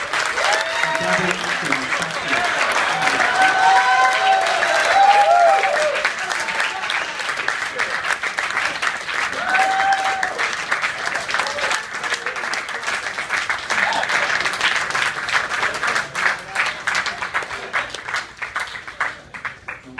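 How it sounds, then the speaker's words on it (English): A live audience applauds a guest introduced on stage at a film discussion event, a loud, dense wash of clapping that swells and then tapers, with some crowd noise and voices mixed in. "I want you to give a round of applause for Monty Cox"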